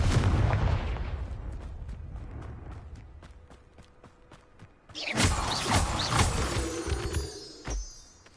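A Confringo fire spell blast in Hogwarts Legacy, a burst of crackling impacts after a run of quick rhythmic ticks, loud and close, then a fading rumble.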